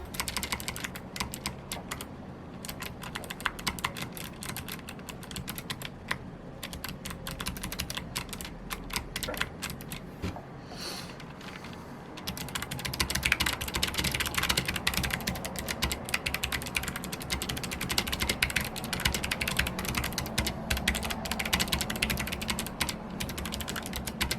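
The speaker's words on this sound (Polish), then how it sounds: "Ten odgłos tych klawiszy jest świetny, zresztą posłuchajcie." Steady, rapid clicking of a Logitech G915 TKL wireless mechanical keyboard being typed on, close up, with a brief pause midway before the typing grows louder.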